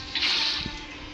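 Minecraft water poured from a bucket, a brief soft splashing whoosh that swells and fades within about a second, with no talking.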